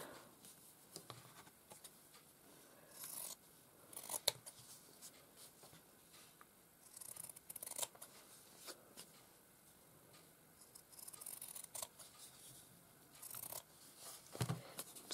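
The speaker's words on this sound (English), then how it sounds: "Going to trim them all around." Scissors snip around grey striped fabric scraps, faint and close, with soft intermittent cuts and rustling of cloth and no talk.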